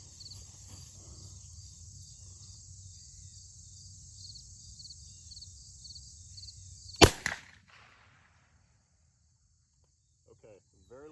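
A single sharp gunshot from a newly bought gun cracks out at the range, fairly modest in volume, over a steady background of insect chirping that drops away after the shot.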